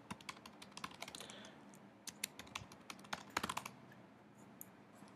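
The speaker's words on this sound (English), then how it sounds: "Go ahead and type in a new password." Fingers tap out a password on a Mac computer keyboard, a quiet, close run of light, uneven key clicks in short bursts with brief pauses between them.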